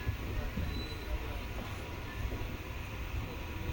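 A Tiruvannamalai to Tambaram MEMU train pulls away from Tiruvannamalai station, its low continuous rumble and rolling clatter steady throughout, with faint voices nearby.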